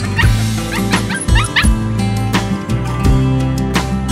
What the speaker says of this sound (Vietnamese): Cá thể chó cái màu lông xám đá, chó khoảng gần 2 tháng tuổi.